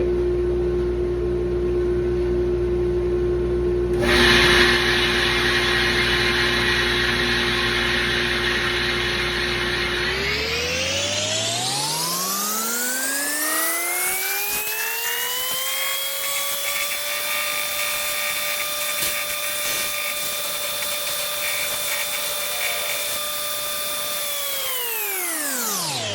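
A sander shaping a wooden stick handle, a loud continuous motor whine that winds up to a higher pitch, holds steady, then spins down at the end, with no talking.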